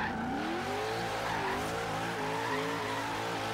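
A drift car in Forza Horizon 3 slides sideways in a parking lot, its tires squealing in a long sustained skid over a steady, loud engine drone that rises and wavers in pitch.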